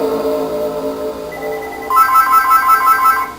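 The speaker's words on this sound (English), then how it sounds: "Ignore the phone, please." A telephone ringtone plays loudly and close by, a melodic electronic pattern that shifts partway through into a brighter, repeating trill, heard alone without speech.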